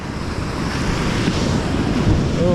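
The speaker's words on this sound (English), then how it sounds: "Oh, and a big wave." Surf washing over a rocky shoreline where rock blackfish are caught on cunjevoi, a steady roar of breaking waves and wind buffeting the microphone, one bigger surge swelling near the end.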